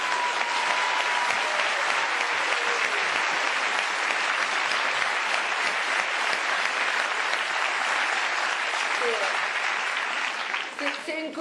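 Warm applause from neighbours welcoming a new tenant to an apartment, a dense sustained clapping that fills the whole stretch and thins slightly at the very end, with voices faintly mixed in.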